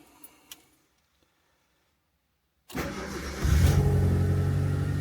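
A rebuilt Proton Satria GTi engine catches after near silence, firing straight up with a loud start and then settling into a steady, strong idle that rises in level a moment later.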